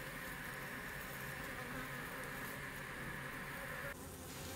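Japanese honeybees swarm over a dead yellow hornet, biting at it and making a dense, steady buzzing drone close by that drops slightly near the end, with no voices.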